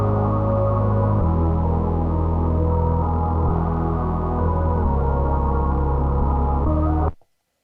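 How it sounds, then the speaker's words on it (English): A synth bass line from the OP-Z's synth engine plays loud, steady low notes that step between a few pitches in a slow pattern, then cut off abruptly at the end. "let's add a bass line using the OPZ's synth engine"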